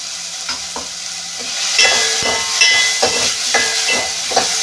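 Tomatoes sautéing in a pan on high flame for sambar, with a bright continuous sizzle and hiss and repeated scraping stirs from a utensil, close and fairly loud, no voices.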